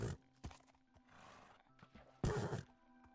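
Minecraft horse noises: a few short snorts and whinnies, then a louder neigh near the end, fairly close, with quiet gaps between and no voices.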